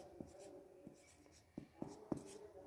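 Pen writing on paper during a Hindi maths lesson on percentages, soft scratchy strokes with several sharper taps near the end, faint and close over quiet room noise.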